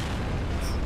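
A short, dense, rumbling blast from a grenade going off in Gears of War 2, filling the whole second with heavy low-end roar at close range.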